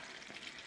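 Chicken wings fry in hot oil with a quiet, steady sizzle and faint bubbling, very brief and with no talking.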